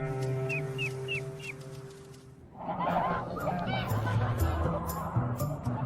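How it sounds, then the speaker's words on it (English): Farm geese at a wild goose ranch honking loudly as a flock, a dense chorus of overlapping honks that swells into noisy chatter after a quieter opening with distant calls. "This is a wild goose ranch. The farm geese are doing pre-meal exercise."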